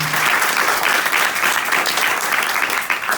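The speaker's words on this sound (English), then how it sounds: "Clap for him" Steady applause fills a hall at a Koya versus Selaheddin university debate, many people clapping at once in a thick, loud, continuous patter that never pauses.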